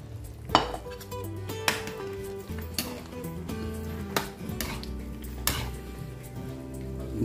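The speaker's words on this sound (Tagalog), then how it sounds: "So at this point, add na natin yung ating carrots at saka patatas." Carrots and potatoes go into a simmering pot of beef kaldereta, with scattered clinks and thuds of pieces and utensils against the pot over a low bubbling sizzle.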